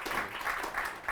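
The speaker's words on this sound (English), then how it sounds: "Let's give them another round of applause." An audience claps after a classical music salon on Northern Indian music traditions, a brief, fairly soft burst of steady applause.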